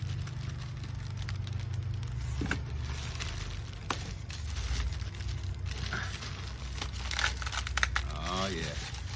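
Styrofoam packaging squeaks and crinkles as it is handled while unboxing a Casio SP-34 three-pedal unit, with scattered rustles and creaks over a steady low hum, fairly close and moderately loud.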